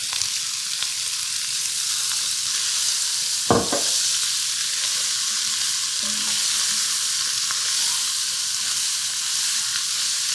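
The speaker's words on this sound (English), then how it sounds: "So I'm gonna put the onions in here." Onions sizzle steadily in olive oil in a pot, a continuous loud frying hiss with one brief clunk partway through and no voices.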